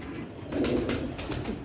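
Pigeons kept in a cage give a brief burst of low, soft cooing close by, rising briefly over faint background noise.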